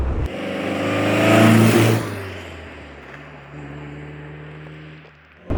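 A 1950s Triumph TR2 sports car drives along flat Fenland roads. Its engine note rises under acceleration, then settles into a steady cruising drone with road and wind rumble, heard from close inside the car.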